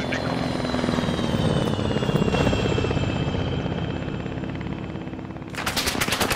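In the ArmA 3 military video game, a helicopter's rotor and engine drone throughout while bursts of machine-gun fire crackle, with a sharp rapid volley breaking out loudly at the end.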